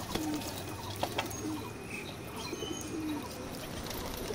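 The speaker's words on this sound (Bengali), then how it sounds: "পায়রাগুলো দেখো, দাদার বাড়িতে ভালো ভালো পায়রা আছে" Pigeons coo softly and flap their wings at a home loft, with a steady hum of background noise and a few brief sharp wingbeats.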